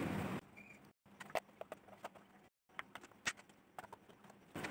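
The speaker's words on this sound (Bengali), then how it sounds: "কচুটাকে আমি ছোটো ছোটো পিস করে কেটে নিচ্ছি।" Taro (kochu) being cut into small pieces with a knife, heard as quiet, irregular sharp taps and clicks with short silent gaps and no voices.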